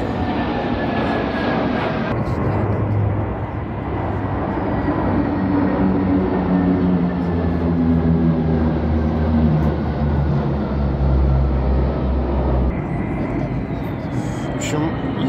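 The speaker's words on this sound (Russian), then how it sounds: "сейчас полетят самолеты" Military airplanes fly over a navy parade rehearsal on a city embankment, a loud steady engine roar sustained throughout, with a deeper drone swelling in the middle as the formation passes overhead.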